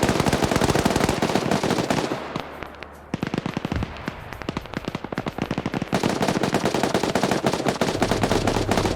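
Rapid bursts of heavy machine-gun fire from a Humvee-mounted GPMG in a military shooter game, loud and sustained with a brief lull in the middle before the stuttering volleys resume.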